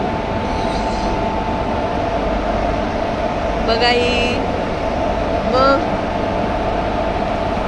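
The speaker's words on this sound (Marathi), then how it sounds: "गाडी बघ कशी रुळावरती जाते." A train rolls along the rails with a steady, loud rumble and a sustained hum, while a few short voices speak over it nearby.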